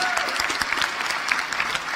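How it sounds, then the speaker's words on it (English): A live convention crowd claps in a steady burst of applause, dense and close, lasting a couple of seconds. "Why are you applauding that?"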